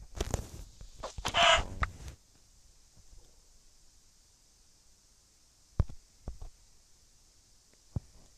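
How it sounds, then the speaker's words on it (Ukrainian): A video game chicken clucks in a short burst at the start, followed by quiet with a few faint clicks and taps; no talking. "Тут курка є."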